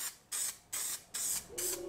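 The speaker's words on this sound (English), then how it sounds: "apply some of this spray adhesive to the back of the velvet" An aerosol can sprays adhesive onto the back of velvet fabric for a handmade ring box, giving four short, close hissing bursts with brief pauses between them.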